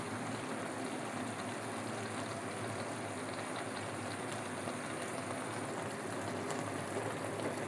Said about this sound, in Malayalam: നമുക്കിതിലേക്ക് കുറച്ച് വെളിച്ചെണ്ണ ഒഴിക്കാം